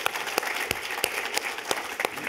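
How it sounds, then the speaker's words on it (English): An audience at a Portland State of the City breakfast event applauds, a broad wash of clapping punctuated by sharp, evenly spaced claps standing out from the crowd. "let's clap for that"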